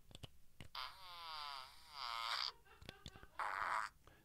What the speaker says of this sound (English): There's seven different rip-roaring fart sounds is what it says on the cover.